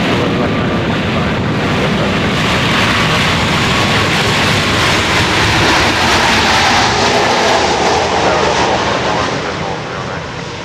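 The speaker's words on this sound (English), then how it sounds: "That is not exactly a whisper quiet MAX 8, flight 611." A Southwest Boeing 737 MAX 8, flight 611, at Dallas Love Field: a loud, sustained jet engine roar that builds and holds, then eases near the end, with some wind buffeting on the microphone.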